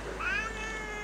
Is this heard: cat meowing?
yes